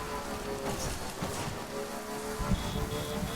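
Rain pours steadily in the video game Death Stranding, an unbroken hiss of falling water close around the listener, with a slight swell near the end and no speech.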